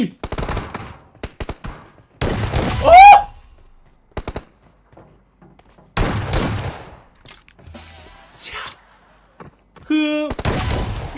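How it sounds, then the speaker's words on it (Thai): Shotgun blasts in PUBG Mobile come as sharp, loud bursts separated by silent gaps, with someone talking in between and a brief chirpy effect among the shots. "ความที่มันเป็นลูกซองทุกคนครับ คือเอฟเฟกยิงเนี่ย มันจะเป็นตามกระสุนนะทุกคนครับ แต่ว่าลูกซองมันก็คือยิงทีละเยอะๆใช่ไหม"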